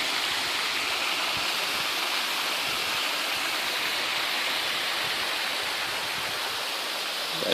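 Small waterfall drops along a creek make a continuous, loud, close rush of falling water that holds steady throughout, with no voices.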